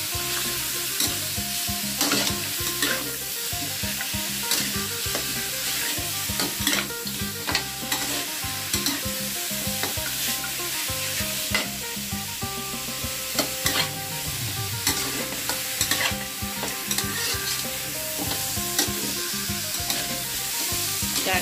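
Pork ribs stir-fried in a pot for an Isan jackfruit curry, a continuous sizzle broken by frequent scraping and clanking of a utensil against the pot, with no voices.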